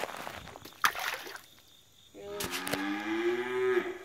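A cow lets out a loud, drawn-out moo with a falling pitch, close by near the water's edge where stones are being skipped. A short splash and some rustling come before it.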